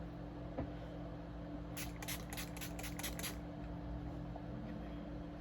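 Several quick hissing bursts of an e.l.f. makeup setting spray bottle pump in a fast series, close and fairly soft, over a steady low background hum.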